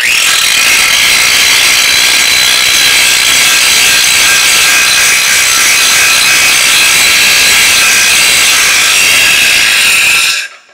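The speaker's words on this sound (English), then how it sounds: "Let me grab my grinder real quick. We'll pull that mill scale off there real quick" A handheld grinder strips mill scale from steel before welding, giving a loud, continuous, harsh abrasive whine with no breaks that cuts off sharply at the very end.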